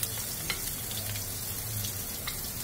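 Onions and garlic sauté in about two tablespoons of hot oil in a pan, giving a steady close sizzle and frying hiss with a few soft stirring clicks and no talking.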